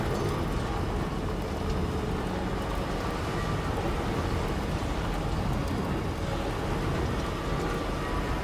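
Steady rain falls in the video game Death Stranding 2, a continuous dense hiss of drops with no talk.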